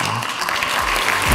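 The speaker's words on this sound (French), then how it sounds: "Et un gros applaudissement pour lui aussi." A children's magic show audience bursts into steady applause right after a lion illusion with a cage, the clapping dense and sustained across the short stretch, with some low murmuring underneath.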